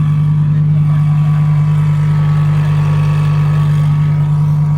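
A Porsche 997 Turbo drives past at a car meet, its engine a loud, steady low drone that holds throughout with little change.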